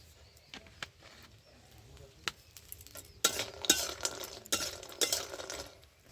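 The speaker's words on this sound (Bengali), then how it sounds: "প্রথমে একটু তেল দিয়ে আমি বড়িটা ভেজে নিচ্ছি" Lentil dumplings (bori) fry in a little oil in a heated karahi, faint at first with scattered utensil clicks, then louder bursts of crackling sizzle and stirring in the second half.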